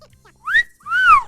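A person whistles an imitation of the rare item alert jingle from the video game Yooka-Laylee: two clear rising-and-falling whistled notes, close and fairly loud, with a short gap between them.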